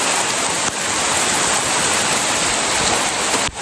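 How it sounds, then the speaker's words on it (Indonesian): Heavy rain pours down steadily and loudly on the road to Situ Rawa Gede near Cisadon, a dense unbroken wash of noise with one brief dip at the start and another near the end. "Hujannya hujan deras banget"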